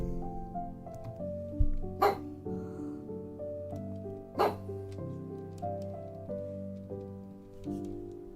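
A dog gives two sharp barks a couple of seconds apart, somewhat distant, against a quiet background of sustained musical tones.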